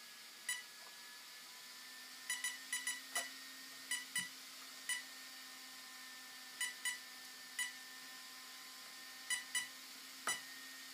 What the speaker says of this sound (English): It's giving one beep, and that's the setting I want.